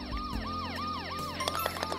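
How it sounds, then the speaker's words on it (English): Wailing emergency-vehicle sirens heard during a round of the game Golf With Your Friends, rising and falling in repeated sweeps, fairly loud and steady throughout with clutter from game effects. "Oh, I hear sirens."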